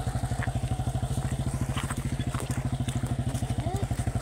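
A motorcycle engine runs close by at a fast, even pulse with a slight metallic clatter on top, holding steady rather than rising and falling.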